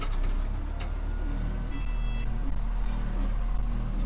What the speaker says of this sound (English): the beeping is because our bed is up in the air